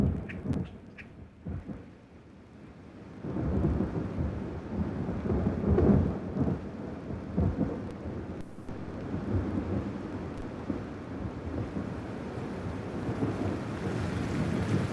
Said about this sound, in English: the drumroll of thunder.